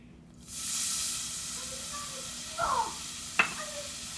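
Half a cup of milk goes into a cocoa mixture with a soft, sustained hissing pour, followed by a brief scraping stir and a single sharp clink of utensil against bowl.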